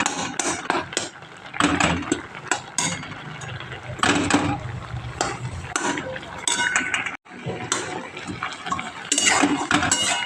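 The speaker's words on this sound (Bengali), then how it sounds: "খুন্তি দিয়ে আমি ভালো করে এক এক করে সব কটা টমেটোগুলো গলিয়ে দিচ্ছি।" A spatula mashes tomatoes in a pan, making steady, busy metallic clanking and scraping that is close and fairly loud, with a brief drop in sound partway through.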